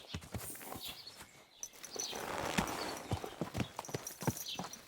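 Horse hooves clip-clop at a steady walking rhythm in the medieval role-playing game Kingdom Come: Deliverance 2, close and fairly clear over rain and ambient noise, with no talking.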